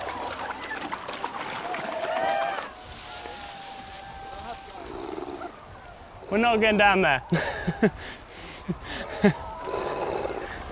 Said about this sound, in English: There's 2 really, really grumpy seals.